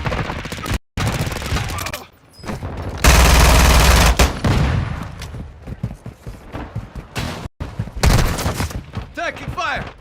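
Bursts of rapid gunfire and machine-gun fusillades in a Call of Duty battle, loud close volleys broken by short gaps, with a radio-style voice speaking over parts of it.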